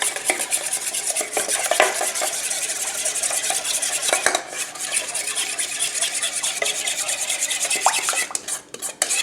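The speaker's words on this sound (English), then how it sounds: "So I'm just going to basically stir this up a little bit." A spoon stirs a thin honey sauce for vegetarian wings in a bowl, a continuous scraping and rubbing with occasional clinks against the dish, close and fairly loud, with no voices.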